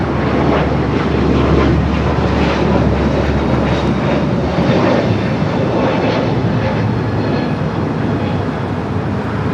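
United airliner taking off from runway 25 right at LAX, a loud continuous jet engine roar close by with broadband rumble that holds steady throughout.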